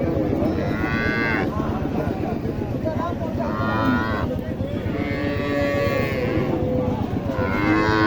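A dairy cow lows in several long, loud moos at a busy rural cattle market, with steady crowd noise and people talking throughout.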